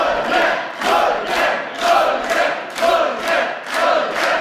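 An esports audience in a packed venue chants in a steady rhythmic pattern, with loud crowd swells repeating about once a second.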